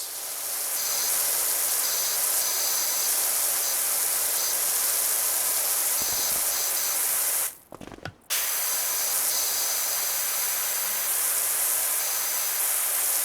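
Pressure washer spraying in the video game PowerWash Simulator 2, a loud steady hiss of water jet running continuously, briefly cutting out for a moment before resuming.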